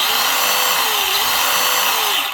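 A brushed XL5 motor in a Traxxas Rustler 4x4 RC car runs with a loud, steady, high-pitched whine that holds throughout, its pitch wavering slightly as the throttle changes.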